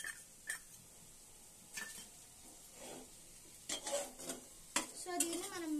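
Vegetables and fried rice sauce being stirred in a pan over high flame, with scattered scraping and clinking of a utensil against the pan, faint and intermittent, no talking.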